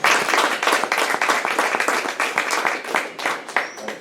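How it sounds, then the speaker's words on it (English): An audience applauds a panel at a conference session, with dense, steady clapping from many hands that carries through the whole stretch at an even, fairly loud level. "Ladies and gentlemen, please a round of applause for our panel."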